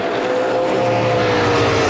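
NASCAR race cars roar around the track at a 2010 race, a loud, sustained engine drone with high whining tones close by and continuous.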